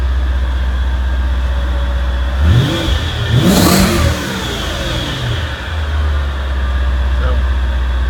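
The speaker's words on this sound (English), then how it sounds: "And the exhaust note's pretty good." A supercharged 2004 Audi S4 engine idles with a deep exhaust rumble, then revs sharply twice in quick succession, the exhaust note swelling and falling back to a steady idle, heard close up.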